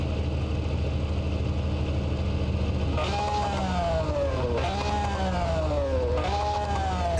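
Modded V12 car engine with full exhaust in BeamNG, a low steady drone that swells into three rising revs with sweeping exhaust pitch, fairly loud and close throughout.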